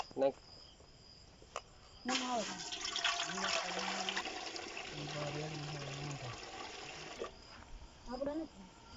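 Water is poured into a pot of mung dal during home cooking, giving a steady rushing, splashing wash for several seconds at moderate loudness while voices talk over it.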